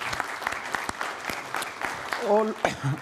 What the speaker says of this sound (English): so I would like to applaud them here.